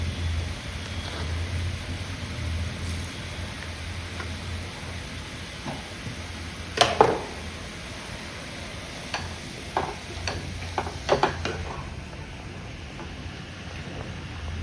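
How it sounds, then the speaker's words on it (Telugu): Cumin seeds are added to a hot pan, which also holds simmering ingredients for a home-cooked Telugu chutney and fry meal. A continuous sizzling hiss is broken by a few sharp clinks and stirring scrapes midway and near the end, with no speech. "ఇప్పుడు ఇందులో కొంచెం జీలకర్ర వేసుకుందాం."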